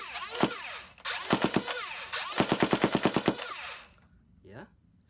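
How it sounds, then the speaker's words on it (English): A Nerf Stryfe foam blaster with Arduino-controlled select fire shoots a single shot, then a short burst, then a rapid full-auto string of sharp mechanical clacks, close and fairly loud, ending with a quieter whir. "I'm going to do single shot, burst, and then full auto"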